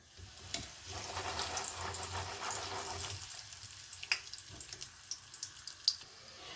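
Raw peanuts fry in hot oil inside a metal strainer, a steady bubbling sizzle with a low rumble for the first few seconds, then thinner crackling with scattered sharp pops toward the end.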